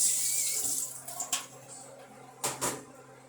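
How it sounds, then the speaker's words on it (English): Tap water runs steadily into a cooking pot being rinsed in a kitchen sink, a close hissing splash broken by a few sloshing surges as the pot is moved. "So I'll be rinsing my pot out."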